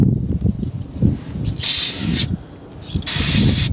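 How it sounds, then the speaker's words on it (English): Two bursts of brake cleaner spraying from an aerosol can onto a gummed-up valve of a 1959 Chevy pickup, each a loud, steady hiss lasting about a second, over a low, rumbling mechanical background. "Might actually spray it with some brake clean."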